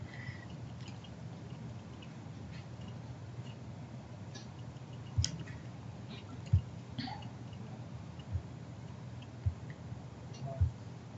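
Computer mouse clicks while outlining a woodland block on a digital map, heard as a handful of faint, sharp taps spaced a second or so apart over quiet room hiss.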